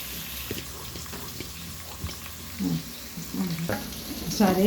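Onion frying in oil with black pepper added, a soft steady sizzle with scattered stirring scrapes that grow busier and louder toward the end.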